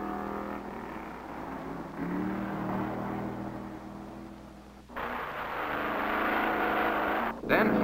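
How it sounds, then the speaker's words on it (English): A 1956 race car at the Pikes Peak hill climb drones through a horseshoe curve, its engine note shifting as it downshifts, heard under a continuous narrating voice with a brief break midway. "Then flashing action as number 22 roars into another horseshoe curve. Driver slowing up by downshifting gears"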